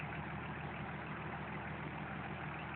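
A Nissan 300ZX Z32 with the VG30DE 3.0 litre V6 idles steadily, a smooth even engine hum heard close and alone for the full few seconds.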